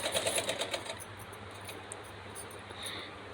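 A sewing machine stitches a dress in a short, fast, pulsing run, then gives way to a quieter, steady mechanical hum. The whole sound is faint and close.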